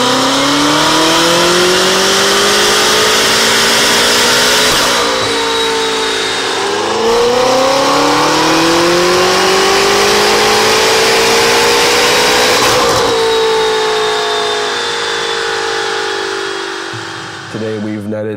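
A BMW F10 M5 fitted with a full Armytrix Valvetronic exhaust, optional downpipes and an ESS stage 1 plus ECU tune revs hard in long rising sweeps, loud and close, with a brief dip between pulls and a fade at the end.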